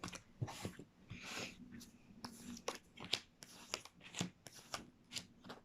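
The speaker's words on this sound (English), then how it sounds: "Okay, so another little shuffle and then we'll see what comes out." A deck of tarot cards being shuffled by hand: a quiet series of irregular riffling and sliding bursts, close up, with no talking.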